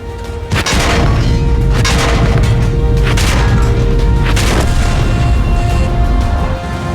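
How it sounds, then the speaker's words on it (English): A great loss of durability on a World of Tanks tank: a loud booming impact opens, followed by several heavy metallic crashes and rattles over a continuous deep engine rumble. "a great loss of durability sounds like this."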